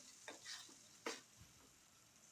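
A spoon stirs lemon juice with turmeric in a pan for lemon rice, a few quiet scraping strokes with a soft sizzle underneath, close and faint, with no talking.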